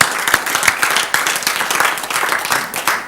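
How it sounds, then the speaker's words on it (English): Applause from an audience at a motivational talk: steady, fairly loud clapping from many hands with a few sharper individual claps standing out, sustained for about three seconds. "Wow, give him a clap."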